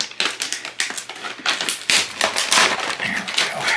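Plastic blister packaging around a Milwaukee precision screwdriver set case being cut open along its edge, a close run of sharp crackling snips and crunches in quick irregular succession.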